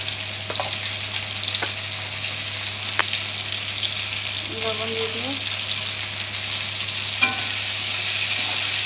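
Spices fry in a kadai with turmeric and salt, giving a constant crackling sizzle with occasional sharp clinks and scrapes of a utensil, while a person speaks briefly over the top.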